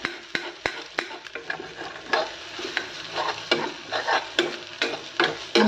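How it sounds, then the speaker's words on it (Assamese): Onion and green chili fry in a pan with a steady broadband sizzle, punctuated by frequent sharp scrapes and clinks of a spatula stirring, close and fairly loud with no talking. "মই পিঁয়াজ আৰু জলকীয়াখিনি প্ৰথমতে অকণমান ভাজি ল'ম"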